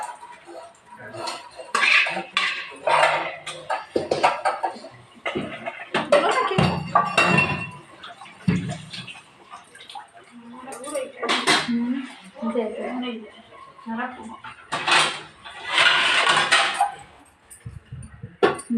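Pots, pans and utensils are washed by hand in a village home kitchen in Odisha, with repeated metallic clinks and scraping clatter throughout, mixed with people talking nearby.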